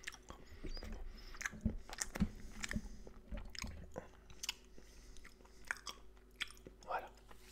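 Close, crunchy chewing with irregular bites and squishy mouth sounds, up near the ear, over a faint background hum.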